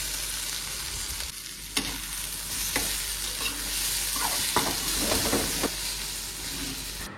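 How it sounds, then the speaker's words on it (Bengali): Sliced pointed gourd (potol) fries in a pan in a home kitchen, a continuous hiss and sizzle broken by several sharp scrapes and clinks as the pieces are stirred, with no voices. "তো দেখতে দেখতে পটল ভাজাটাও হয়ে গেছে"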